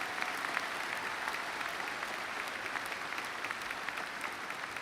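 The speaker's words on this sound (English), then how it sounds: "Would you give them a round of applause, please?" A commencement audience at the Eberly College of Arts and Sciences undergraduate ceremony breaks into dense, sustained applause for the graduates, a steady wash of clapping from a large crowd that holds evenly for the whole stretch with no talking.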